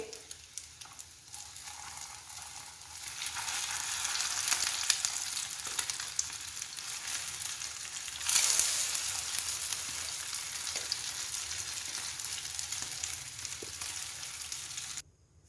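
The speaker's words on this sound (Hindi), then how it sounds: "टिक्कियों को हमने 1 से 2 मिनट के लिए फ्राई किया है। अब हम इसकी साइड को चेंज कर लेंगे।" Shami tikkis sizzle steadily in a hot oiled pan, a continuous close frying hiss with a brief louder flare partway through, no voices.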